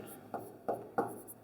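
Chalk or marker strokes on a classroom board while a triangle proof is worked out, three short distinct scrapes spaced evenly, close and moderately loud over a quiet room.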